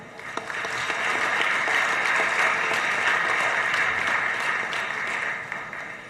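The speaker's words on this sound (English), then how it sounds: "Ladies and gentlemen, a big round of applause, please." Strong, steady applause from the audience at a live book launch event in India, filling the whole stretch with dense clapping that swells and then tapers off near the end.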